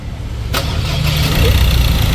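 An SUV diesel engine cranks and catches with a sharp burst, then settles into a steady, low rumbling idle close by.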